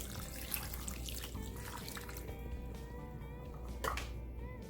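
A cup of beef broth pours into a crockpot with a soft, continuous liquid splash and trickle, quiet and close, tapering off into a few faint drips.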